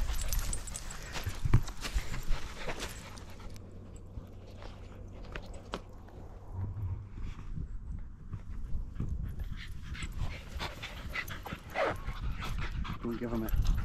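Several small border terriers out on a walk whimper and give short barks near the microphone, mixed with footsteps and a person talking over them.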